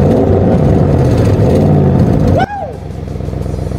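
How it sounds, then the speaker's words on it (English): A 4-liter twin-turbo V8 engine of an Audi RS6 rumbles and revs loudly up close, then cuts to a lower, throbbing idle. "this 4-liter twin-turbo V8 with 441 kilowatts, which sounds like this"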